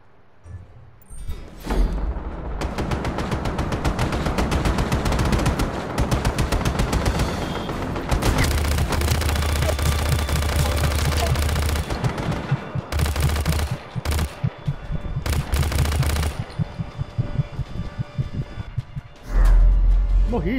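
Dense automatic gunfire in the Just Cause 3 video game, rattling in long continuous bursts with heavy low thumps, some cut short and then resumed, with a louder blast near the end.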